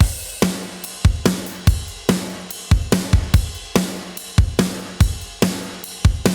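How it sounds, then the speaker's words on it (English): Punchy drum beat with thumping kicks and crisp snare hits in a steady groove, run through two ADC1 compressor/limiters, sounding squeezed and gritty with an old-school compressed character. "It has a really nice vintage compression vibe to it."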